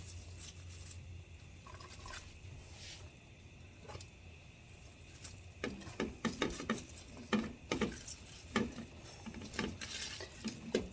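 Chopped cabbage from a large head is dropped into a pot of corned beef and cabbage soup with potatoes: a quiet simmer first, then a run of irregular rustling thuds and clatters as the pieces go in.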